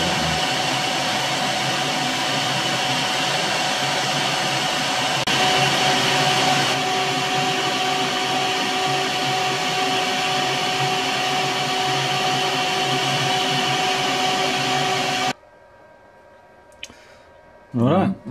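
Milling machine cutting a part for a Kant twist clamp, a steady loud machining drone with a faint clicking texture that runs unbroken for about fifteen seconds, then stops abruptly, leaving near silence and a brief thump at the end.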